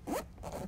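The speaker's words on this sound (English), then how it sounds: "as you're pulling the zipper down, you want to kind of pull the two pieces together" A zipper on a leather seat cover is pulled down in one quick, close rasping stroke, followed by quieter fabric rustle.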